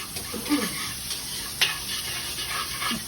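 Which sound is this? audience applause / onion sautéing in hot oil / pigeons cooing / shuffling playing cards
onion sautéing in hot oil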